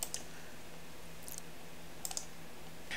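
A few quiet, crisp computer mouse clicks spaced apart over a low steady hum while working in tax software, close to the microphone and with no talking.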